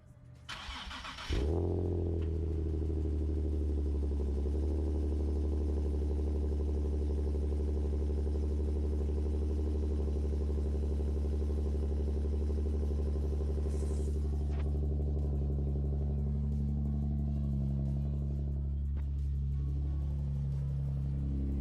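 A Nissan 370Z engine starts with a sharp crank and then settles into a steady, deep idle rumble that holds close and loud, with a faint shift in tone near the end.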